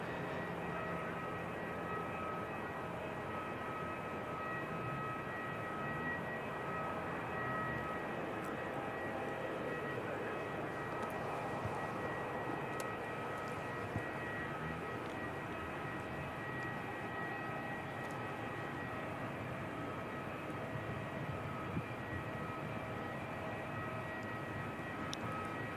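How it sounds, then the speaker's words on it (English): Air Chatham's ATR turboprop airliner, flight 40, at Christchurch Airport, its steady broadband engine roar holding at a constant level for the whole stretch, distant and unbroken, with no voices over it. "we can see the Air Chatham's ATR, flight 40"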